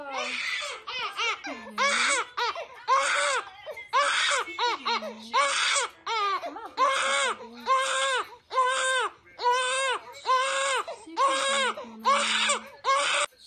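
A small baby cries in loud, repeated wailing bursts with short breaths between them, sometimes sliding into whimpers, close and continuous throughout with no talking.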